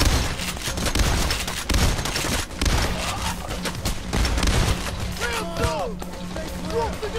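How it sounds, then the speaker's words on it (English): Gunfire in the heist shooter Payday: The Heist at a bank, dense bursts of rapid shots and crashes running nearly nonstop, with speech-like chatter and radio tones mixed in. "why are you shooting at me?"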